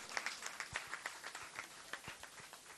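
Applause from the crowd at a Jain temple festival at Kundalpur, faint and distant, a patter of scattered claps going on throughout.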